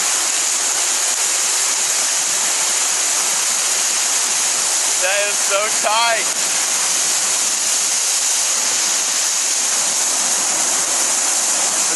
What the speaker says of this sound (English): there's so much water rushing out of there